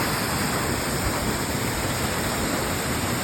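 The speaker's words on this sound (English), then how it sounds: "I can hear rocks moving through this water" Rushing wilderness stream water pouring over rocks, a loud, dense and unbroken roar heard close up with no voices.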